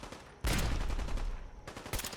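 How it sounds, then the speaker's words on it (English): Suppressed Gauss rifle fire in the video game Fallout 4 (Far Harbor): two loud, dense bursts of crackling gunfire, the first long and sustained, the second shorter, with quieter game ambience between. "Yeah, that's a Gauss rifle with a big old suppressor on it as well."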